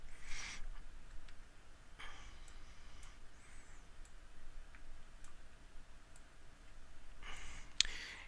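Mouse clicks on a checkbox and update button in data-plotting software, a few sharp faint ticks spread across a quiet background with one brighter click near the end.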